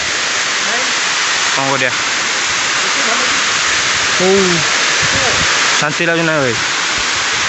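Steady broadband rush of a stream or small waterfall flowing continuously, close and fairly loud, with voices talking over it at intervals.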